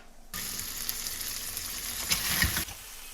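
Beef sears in a hot pan for a pot roast, a steady close sizzle that starts suddenly, swells briefly with a louder crackle, then cuts off.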